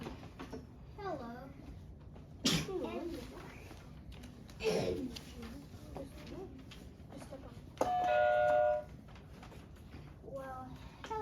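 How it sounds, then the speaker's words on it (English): A doorbell at a grandparents' house rings once with a clear electronic chime partway through, set among a voice and narration. "Dalton rings the doorbell and Pops opens it."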